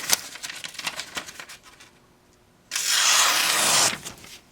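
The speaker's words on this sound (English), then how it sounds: "Boy, you got to keep the knife in the paper" A Lionsteel SR-11A knife blade slicing through paper, a single sustained, loud broadband rasp lasting about a second, heard alone after some earlier tapping sounds.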